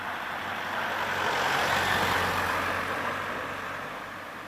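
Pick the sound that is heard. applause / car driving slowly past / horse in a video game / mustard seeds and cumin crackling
car driving slowly past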